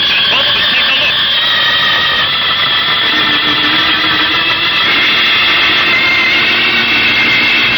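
A jet boat's rocket engine roars as a radio drama sound effect, a loud, continuous, close blast with a steady high whine and a slight pitch shift partway through, with no voices over it.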